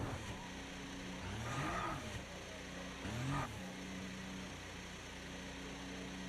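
Video game car engine idling at around 4,000 RPM, a steady high-pitched drone with two brief swells like revs, moderate and continuous.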